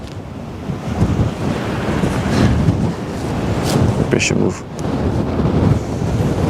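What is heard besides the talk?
strong wind blasting the microphone by the Westerschelde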